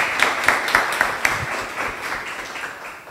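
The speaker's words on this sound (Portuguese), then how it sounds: "uma salva de palmas para o Murilo." Audience applause after a startup presentation at an open innovation event on energy, with a few distinct near claps standing out early before the clapping settles into a fading, even patter.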